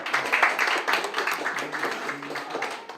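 Audience applause welcoming a guest speaker, a company chairman, at an in-person speaker event: dense, steady clapping from a crowd that holds at a fairly even level, easing slightly toward the end.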